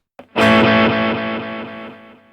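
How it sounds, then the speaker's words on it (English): An electric guitar chord rings out through a delay pedal placed in the amplifier's effects loop, with clear, evenly spaced echoes repeating and slowly fading after a single sharp strum. "let's try that again, but with the delay pedal connected to the effects loop."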